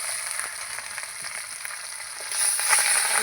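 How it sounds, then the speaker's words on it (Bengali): Tengra fish fry in hot oil with a dense, steady sizzle that grows a little louder near the end, and no voices are heard. "আমি দু চারটে করে মাছ ভেজে নেবো"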